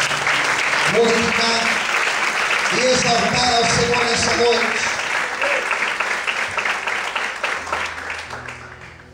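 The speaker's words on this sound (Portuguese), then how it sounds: "Você pode desocupar sua mão e aplaudir" A church congregation claps along during worship, steady applause under a preacher's amplified voice speaking Portuguese, with the clapping fading out toward the end.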